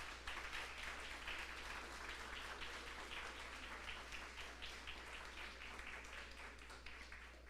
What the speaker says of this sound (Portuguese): Se você crê, pode aplaudir a Jesus.